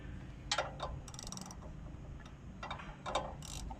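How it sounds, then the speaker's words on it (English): A socket ratchet works a bolt loose on the drum of a Power King 9.5 HP chipper shredder, giving a few short clicking bursts and ticks at close range over a low background hum. "the whole time my right hand is keeping my socket square onto the bolt"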